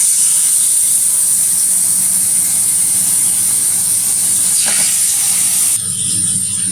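Marinated chicken pieces for peri peri frying in hot oil, giving a steady loud hiss and sizzle throughout, with a brief splatter near the end and no talking.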